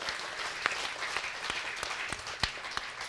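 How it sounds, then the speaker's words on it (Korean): Congregation applause in a church during a Sunday morning service, a steady dense wash of clapping with a few sharper claps standing out, no voices. "찬양 인도하고 사회한 우리 정남의 박수 한번 합니다."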